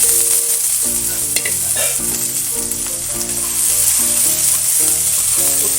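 Green peas hit a little hot olive oil in a wok and sizzle steadily throughout, a close, continuous frying hiss, with a faint tune playing quietly underneath.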